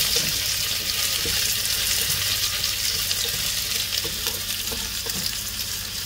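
Sausages, potatoes and onions fry in a pan outdoors, giving a steady, close sizzle with faint crackles and occasional stirring clinks throughout.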